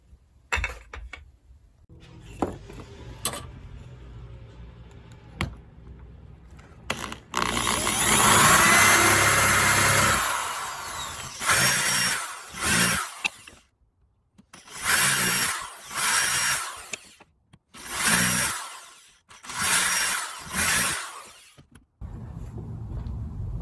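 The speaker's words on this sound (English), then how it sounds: "now I'm just going to countersink each one with the hand drill" A power drill whirs in a series of short bursts separated by pauses, loud and close, countersinking pre-drilled holes in wood, with some clicks and knocks before it starts.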